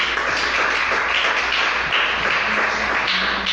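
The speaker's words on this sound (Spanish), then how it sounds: "Denle un aplauso al Señor" A church congregation applauds, a continuous even wash of many hands clapping at moderate level that holds steady from start to finish, with no talk over it.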